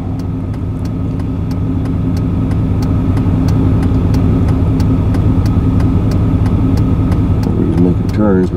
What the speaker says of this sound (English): Wait for all the traffic to get by.